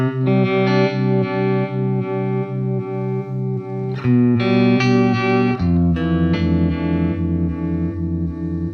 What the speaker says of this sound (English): now we'll get a much more even kind of sine wave kind of sound